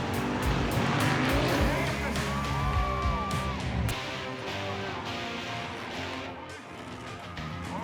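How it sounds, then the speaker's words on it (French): A four-wheeled off-road race vehicle plowing through a deep mud pit, its engine roaring loud and close under heavy throttle, with strained revving that eases somewhat partway through. "Le monstre à 4 roues tient bon jusqu'à la fin."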